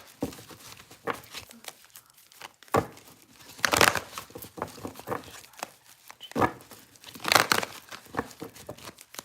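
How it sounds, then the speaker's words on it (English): A tarot deck is shuffled in repeated bursts of rustling, flicking and riffling, close up. Each burst sounds crisp and papery, with short quiet gaps between them and no talk. "let me go ahead and do a shuffle for you"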